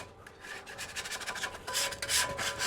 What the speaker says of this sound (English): Okay, we're gonna scrape.